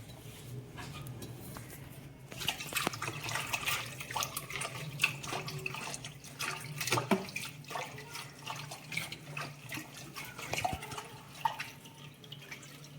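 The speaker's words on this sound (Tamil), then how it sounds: "இந்த இலையை நல்லா கழுவ போகிறோம்." Drumstick tree leaves are washed by hand in water for a cold-and-cough adai batter, with faint splashing, dripping and swishing at irregular intervals. The sound is quiet and close with soft handling noises.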